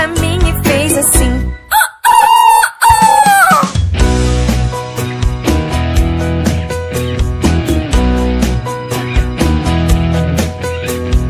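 A rooster's cock-a-doodle-doo crow, likely a sound effect or voice in a children's song, rings out over the opening, then bouncy instrumental music with a steady beat carries on loudly.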